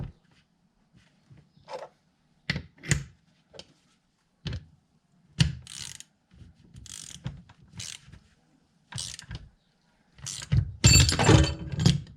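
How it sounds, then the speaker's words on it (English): Bearing puller working on Classic Mini differential bearings, a series of sharp metallic ratcheting clicks and clunks in irregular bursts, close and fairly loud, ending in a denser rattling cluster. "So I've got my bearing puller."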